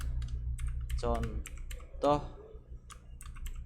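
Typing on a computer keyboard while entering and running a Java console program, a steady scatter of light clicks throughout under brief spoken words.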